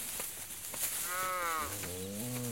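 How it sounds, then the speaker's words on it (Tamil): Cattle in a rural village setting as hay is put out for them, with a low, drawn-out moo rising and falling near the middle and end, over steady background noise and no talk. "என்னப்பா மாடுகளுக்கெல்லாம் வைக்கப்புல் போட்டுக்கிட்டு இருக்க போல?"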